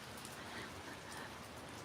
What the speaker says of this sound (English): It's raining and it's windy.